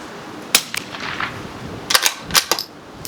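Sharp rifle cracks from a CZ 457, a few separate shots spaced unevenly over a few seconds, loud and close, with no voices.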